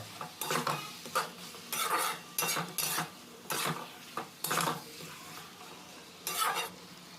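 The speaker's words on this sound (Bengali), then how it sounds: "এইভাবে একসঙ্গে মিক্স করতে হবে সবজিটা ভালো করে কষে নিতে হবে" A spoon stirs ridge gourd and potato curry in a metal pan, giving repeated scraping and clinking strokes in an irregular rhythm with brief pauses between them, close and fairly loud over a faint sizzle.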